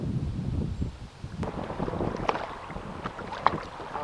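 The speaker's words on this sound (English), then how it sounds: "Wow, it is windy today." Gusty wind over a river buffets the microphone with low, rumbling blasts and irregular surges, with no voices present.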